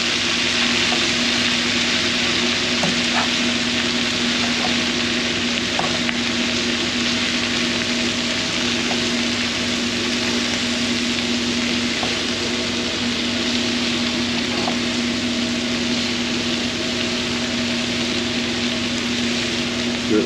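Southern-style cabbage frying in a pan, an even, steady sizzle lasting throughout with faint intermittent scrapes and taps of a stirring utensil, plus a constant low hum in the background.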